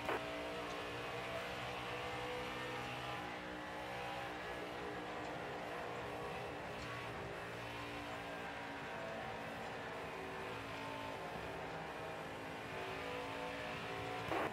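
Stock race car engines drone at sustained high revs in the NASCAR Heat 5 video game at Chicagoland Speedway, a dense, continuous roar of several cars racing together without a break.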